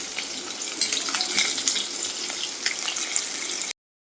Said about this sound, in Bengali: প্রথমত মাছটাকে ভাজতে বসিয়েছি